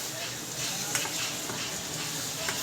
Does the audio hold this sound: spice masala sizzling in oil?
yes